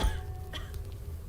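A single short cough from a woman in a graveyard simulator game, quiet and slightly distant, over a low steady background rumble.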